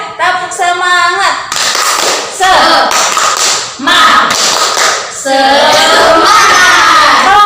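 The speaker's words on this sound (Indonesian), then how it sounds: "ibu ingin kita tepuk semangat dulu" Students in a class clap a rhythmic 'tepuk semangat' chant, loud patterned bursts of hand claps alternating with chanting voices, close and energetic.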